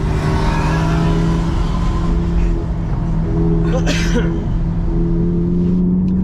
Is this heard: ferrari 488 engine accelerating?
yes